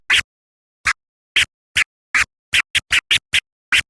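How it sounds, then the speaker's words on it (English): Eleven short, bright chirp scratches on a DJ turntable, each clipped sharply by the crossfader with silence between, spaced irregularly and speeding up toward the end. "Now with the chirp scratch, we're gonna start with our crossfader open."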